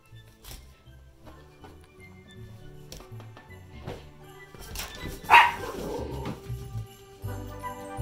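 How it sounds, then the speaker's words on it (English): A pet dog barks indoors, a few short barks and yips at moderate loudness against a quiet room. "Why were you barking?"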